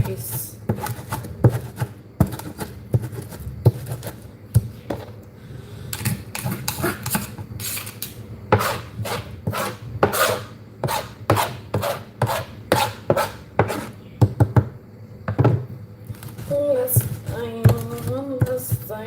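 Spring roll filling being mashed with ginger and garlic paste, a steady run of soft rhythmic thumps and squelches repeating dozens of times, close and fairly loud, with a voice talking briefly near the end.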